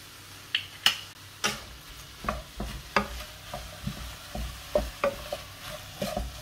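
Ratatouille vegetables sear in oil with herbs in a pan, a low sizzle under repeated close scraping and tapping strokes of a utensil stirring at an uneven rhythm.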